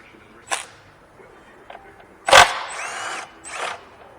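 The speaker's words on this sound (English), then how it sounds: "I'm going to go ahead and take these intake bolts out" Power tool working on the intake bolts of a Chrysler PT Cruiser, a few short bursts of whirring and ratcheting with clicks between them, close and fairly loud in a quiet garage.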